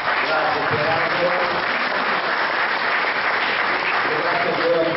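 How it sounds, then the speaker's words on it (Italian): Audience applauding at a book presentation, a dense, steady burst of clapping from a crowd that fills the room, loud and continuous for several seconds. "un applauso ancora"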